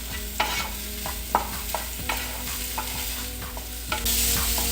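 Chopped tomato frying in a pan for a bread snack, sizzling steadily while a utensil scrapes and stirs in regular knocks, close and clear with no voices.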